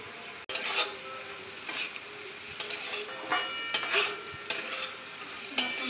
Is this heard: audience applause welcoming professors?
no